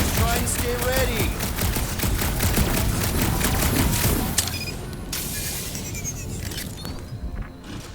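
Rapid gunfire in the Guardians of the Galaxy video game, dense bursts of overlapping shots rattling over busy game ambience for several seconds before thinning out.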